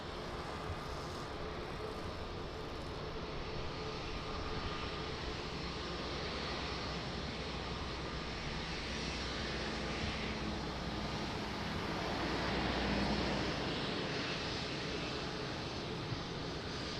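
A jet airliner touches down at Lisbon Airport with a broad, steady engine roar that swells slightly near the end, heard from a distance with no voices.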